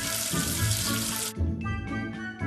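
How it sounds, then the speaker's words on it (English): Water running and splashing to rinse soap off a number in a children's counting game, a steady broadband wash for a little over a second, then broken, gurgling bursts of flow that stop and start. "Wash away the soap with water."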